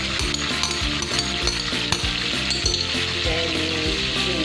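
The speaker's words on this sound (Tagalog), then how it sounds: "lagyan na natin yung bawang" Garlic sizzling in hot butter in a pan while preparing buttered mussels, a loud, dense, continuous crackle with faint stirring clinks, close and steady throughout.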